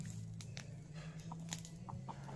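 A red rooster and hens on a farm give soft, scattered clucks, a few short calls spaced irregularly over a steady low background hum, fairly faint and with no talking.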